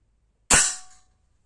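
A single sharp crack from a Blow H01 4.5mm air pistol firing at 2 metres, close and loud, with a short ringing decay afterwards.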